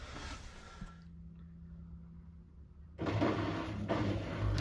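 A washing machine on a narrowboat runs and fills, with a low hum, a faint steady tone, then a louder rush of water flowing in during the final seconds.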